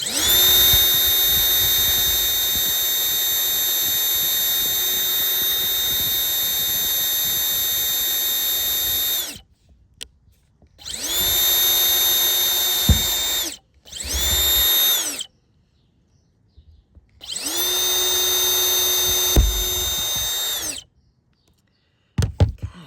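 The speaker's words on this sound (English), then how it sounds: "going to use the drill to make little pilot holes here." A power drill whines loudly at high speed in four separate bursts of varying length, with short silences between runs, drilling pilot holes to install a MaxxAir fan in a Promaster van.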